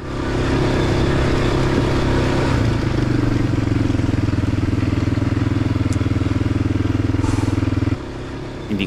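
Honda X-ADV motorcycle engine running close by, a loud steady throbbing idle with a low rhythmic pulse that holds for about eight seconds before dropping off.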